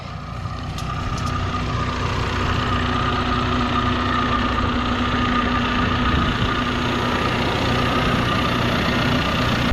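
A bulldozer's diesel engine idles steadily with a low, constant rumble and a faint whine on top, holding an even level throughout with no talking.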